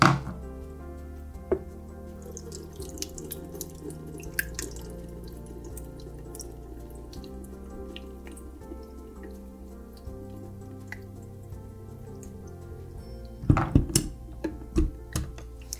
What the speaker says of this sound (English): You'll want to put it into your colander. Make sure your colander is over a bowl, bucket, sink, so water doesn't get everywhere.